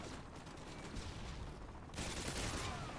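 Rapid, dense bursts of AK-47 gunfire in a first-person shooter game run without pause, swelling louder toward the end amid continuous game noise.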